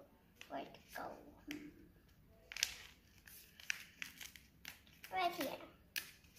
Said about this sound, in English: Time to open this plastic.